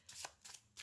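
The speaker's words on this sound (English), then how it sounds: "I'm going to do another shuffle because I feel like I should probably shuffle it again." A deck of tarot cards is shuffled in three quick riffling bursts, close and soft, each a brief papery flutter with short gaps between them.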